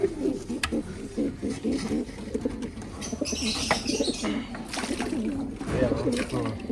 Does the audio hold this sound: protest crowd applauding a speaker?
no